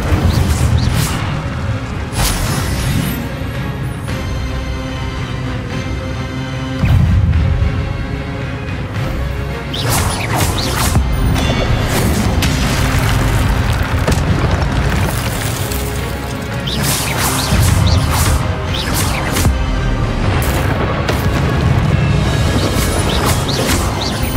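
Repeated booming fire-spell blasts cast during combat in Hogwarts Legacy, loud and dense bursts with crackling impacts layered over game music and effects throughout.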